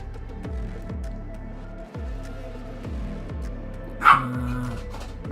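A fluffy dog gives a run of short, evenly spaced barks, fairly close and moderately loud, with a sharper yelp-like burst near the end.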